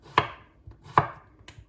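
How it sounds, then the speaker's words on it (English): A kitchen knife slices thinly through cucumbers on a cutting board, three crisp, close taps, spaced under a second apart, with quiet gaps between and no talking. "all I'm doing here is I'm just sort of thinly slicing these cucumbers"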